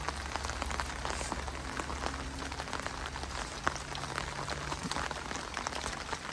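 Steady rain patters on a surface, a dense hiss of drops with scattered louder splats, close and continuous throughout.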